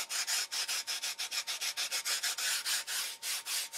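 Sandpaper held in the hand rubs back and forth over a radius on a control line electric Thunderbolt model, about twenty quick rhythmic scratchy strokes, close and fairly loud.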